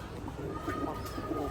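Pigeons on a farm of colourful fancy breeds give soft, low cooing, blurred into a steady murmur of background noise and a dense flock-like bustle throughout.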